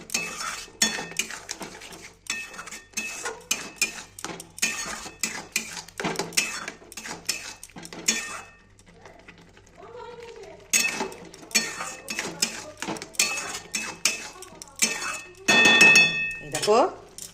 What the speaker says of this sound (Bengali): এবার আমি পোস্তটা দিয়ে শাকটার সঙ্গে ভালো করে নাড়িয়ে নিচ্ছি, যাতে পোস্তটা পুরো জায়গায় ভালো করে মেল্ট হয়ে যায়।